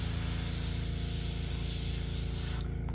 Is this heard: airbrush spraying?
yes